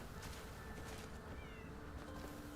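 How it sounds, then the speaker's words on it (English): A cat meows in the video game Crimson Desert, a few faint, thin cries heard alone against a steady background hum. "I hear a cat somewhere."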